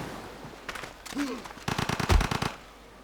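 Gatling gun bombardment in the strategy game Civilization 5: rapid bursts of rattling gunfire, building to a loud cluster with a deep thump near the end, over low background sound.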